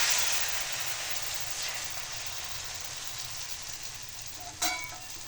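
Ghavane, a thin rice crepe, cooking in a pan: a steady, soft sizzle runs throughout, with a brief sharper clink near the end.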